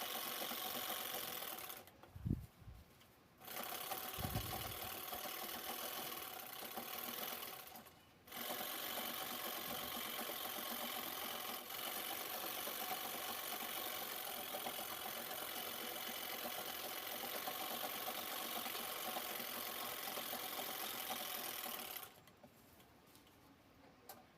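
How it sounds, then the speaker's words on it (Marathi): Sewing machine stitching cross lines on a baby quilt, running in a steady mechanical whir with rapid needle ticking, stopping briefly twice and once more near the end, with a couple of soft knocks during the first pause. "आता दुसऱ्या बाजूने आपण क्रॉस लाईन शिवून घेणार आहोत"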